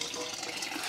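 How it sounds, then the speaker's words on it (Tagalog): Water gushes steadily from a garden hose, a dense rushing splash that runs without pause for about a second, close and fairly quiet, with no talk. "Labas na agad tubig."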